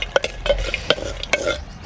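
Almonds, raisins and cashews stirred in a clay pot while making vermicelli payasam, a quick series of close scraping, rattling strokes with a faint sizzle underneath.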